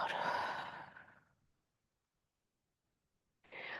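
A long, audible exhale during a gentle yoga session, a soft breathy sigh that fades into silence before another breath begins near the end.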